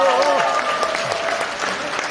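Applause ripples through the audience at a People Power Party members' training session in Gumi, a full room clapping warmly and continuously while a voice briefly carries over the start.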